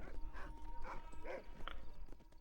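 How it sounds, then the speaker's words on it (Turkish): A few short dog barks from the video game Red Dead Redemption 2 sound at moderate distance over a low rumbling background, spaced irregularly with no talking. "Sen niye hav hav hav ediyorsun?"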